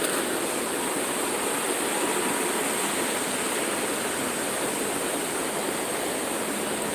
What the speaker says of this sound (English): Look at the falls from the power plant from the middle.